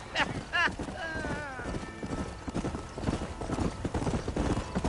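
Horse hooves clip-clop at a steady pace in the video game Red Dead Redemption, with a brief whinny near the start and a voice talking over the hoofbeats.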